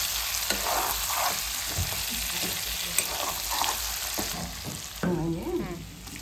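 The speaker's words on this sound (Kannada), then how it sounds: "ಈಗ ಅದು ಒಂದು ಸ್ವಲ್ಪ ಈ ಥರ ಹಿಂಗೆ ಮಿಕ್ಸ್ ಮಾಡಿ ಕಲ್ಸ್ಕೋಬೇಕು ಚಲೋ" Stuffed eggplant curry sizzling and frying in oil in a pan, stirred steadily with a spoon, with a louder burst of sizzling near the end.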